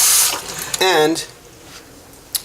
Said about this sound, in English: We're going to cover these guys in cold lukewarm water, just from our tap.